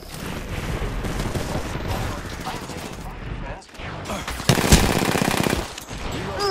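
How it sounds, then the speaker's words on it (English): Automatic weapon fire in the Apex Legends battle royale, dense and continuous across the clip with a sharper burst near the middle and a short lull before it. "Shots on me."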